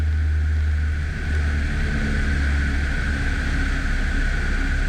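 A small airplane engine throttled back to 2,000 RPM on a touch-and-go, humming as a steady, loud drone with a strong low tone and a constant mid-pitched whine.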